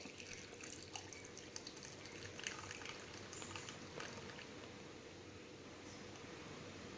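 Tamarind water steadily pours and trickles into a pot while cooking a yam fry, a continuous splashy stream with faint drips, close by and fairly quiet, with no talking.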